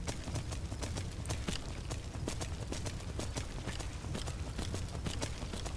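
Rapid hoofbeats of a galloping horse in Skyrim, a steady fast clatter continuing throughout at moderate volume.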